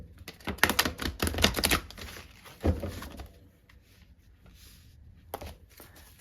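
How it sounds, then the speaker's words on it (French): Tarot cards being laid out on a table for a reading: several crisp slaps and shuffling rustles near the start, then a quieter stretch and one more soft card sound near the end. "Allez, on va poser les 4 cartes."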